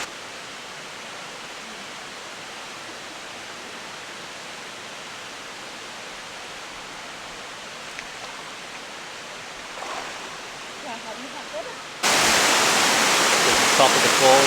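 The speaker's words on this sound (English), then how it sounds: "At the top of the falls, the water is pretty cold." A waterfall in Karijini National Park rushes steadily as a broad, even hiss heard from a distance, then grows suddenly louder and closer near the end.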